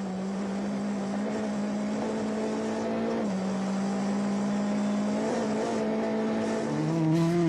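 A Skoda Fabia rally car races along a stage of the Acropolis Rally, its engine holding a loud, steady high-pitched drone with brief shifts in pitch as it changes gear and accelerates.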